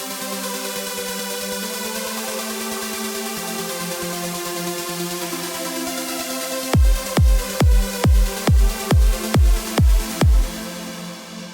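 A trance track plays with a dense, sustained synth wash and side-chained reverb while the kick drum is absent; near the end, eight rhythmic pumping pulses punch through the loud, full mix.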